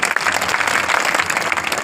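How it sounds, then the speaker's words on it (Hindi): A crowd of farmers at a protest sit-in applauds with dense, steady clapping, loud and close, lasting a couple of seconds. "एक बार तालियां बजा के आप अपना स्वागत करें।"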